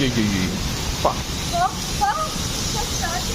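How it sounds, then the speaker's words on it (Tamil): Heavy rainstorm with strong wind in Dubai, a steady broadband hiss of pouring rain and gusts filling the whole stretch, with a voice speaking briefly over it. "சரியான மழை."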